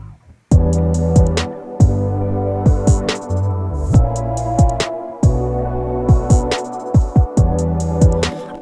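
A bass line added to a song mix plays under steady drums, with low sustained notes shifting in a repeating pattern and a punchy rhythmic beat, loud and full after a brief quiet opening.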